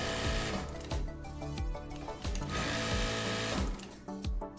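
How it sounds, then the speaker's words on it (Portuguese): A Sun Spec straight stitch sewing machine starts up gently and settles into steady, close mechanical stitching, a fast repeating needle rhythm with periodic softer pulses, loud and alone with no voices. "Quando você começa a costurar, ele vem mais suave. Mesmo que a velocidade esteja alta, ele começa mais suave."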